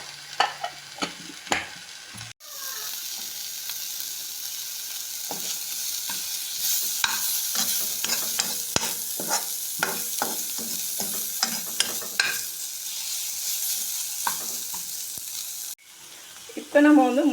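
A ground cumin, fennel and pepper spice powder hits a pan of cooking tomatoes and sizzles loudly and steadily, with repeated scraping stirs and clinks on top and brief bits of talk near the start and end.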